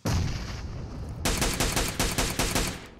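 Gunfire in the PUBG Mobile video game, a loud opening burst followed after a short pause by a rapid string of shots in quick rhythm, close and forceful, with no talk.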